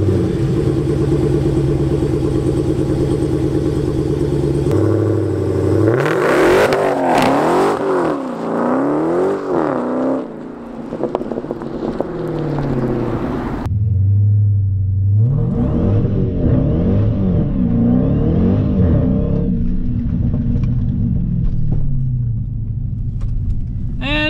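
A Dodge Hellcat launching hard from a dig, engine bellowing loud and close as it climbs through the revs, shifting into another rising pull after a brief drop, with a deep rumble underneath.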